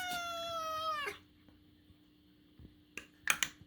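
A cat gives one long, loud, falling meow up close, followed by quiet and then a few sharp clicks and small rustles near the end.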